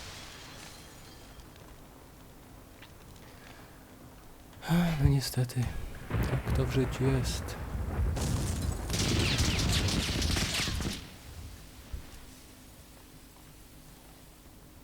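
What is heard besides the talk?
explosions and fireworks in the video game Max Payne 2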